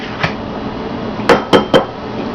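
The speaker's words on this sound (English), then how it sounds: "crack the eggs in my bowl here" Eggs tapped against a bowl in a home kitchen, one sharp knock followed after a pause by three quick cracks in a row, close and crisp over light background hiss.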